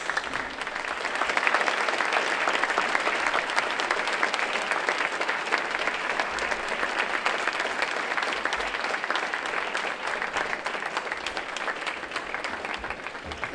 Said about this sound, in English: I want you to give yourself a round of applause for investing into your life